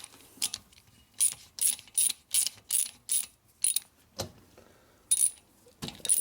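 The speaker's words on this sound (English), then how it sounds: "Where's my new ratchet?" A ratchet clicks in quick bursts while tightening bolts on a Harley-Davidson Shovelhead engine, a run of close, sharp, regular metallic clicks with short gaps between strokes.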